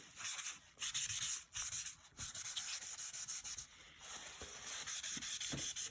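Pencil smudging and smearing graphite across paper while shading the eyes of a cartoon rabbit drawing, a close, steady dry rubbing in repeated strokes with brief pauses, no talking.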